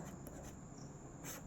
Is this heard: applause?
no